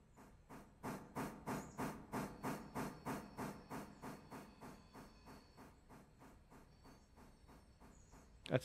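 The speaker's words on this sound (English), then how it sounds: "That's a train brake." Steam locomotive in the Railroader train game chuffing in a steady rhythm of about twenty sharp hissing exhaust bursts that slow and fade, closed by a brief loud hiss near the end.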